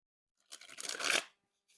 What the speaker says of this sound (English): attempt to shuffle these cards that you're not supposed to really shuffle because they don't really shuffle that good at all